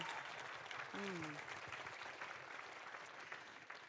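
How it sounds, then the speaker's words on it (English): Audience applause for the Ware Brass Band at a live Carols from Easneye 2022 event, a steady wash of clapping across the whole stretch with a brief voice over it and a faint tone near the start. "Let's give them an applause"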